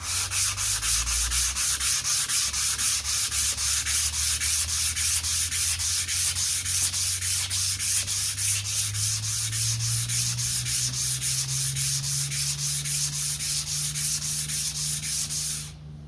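A scratched vintage knife sharpening stone is rubbed flat, giving loud, rapid, evenly paced back-and-forth grinding strokes that continue without talk until stopping right at the end.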